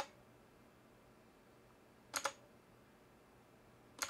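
Two short bursts of key clatter on a MageGee MK-Mini 60% mechanical keyboard, quick clustered clicks close by over a quiet background hiss.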